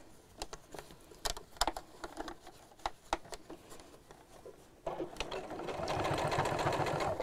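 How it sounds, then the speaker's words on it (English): Sewing machine backstitching the handle of a bag with a round bamboo handle, first a scatter of sharp ticks and short stitching taps, then a steady faster run of stitching that continues to the end. "we're going to backstitch again to make that nice and secure."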